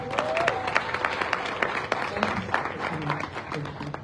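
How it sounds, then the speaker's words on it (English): Conference audience applauding, a moderate scattering of individual claps rising and falling, with voices and some background sounds mixed in. "Can we give a round of applause?"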